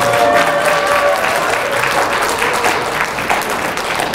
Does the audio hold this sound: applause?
yes